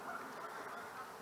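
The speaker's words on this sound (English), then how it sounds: "Foraging Canada geese." Canada geese foraging outdoors in a Seattle neighborhood in winter, giving soft, steady honking and quacking calls that blend into a continuous low murmur at moderate distance.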